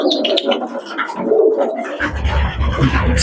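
Homing pigeons cooing in a loft, repeated soft throaty coos close by with a steady low rumbling murmur underneath in the second half.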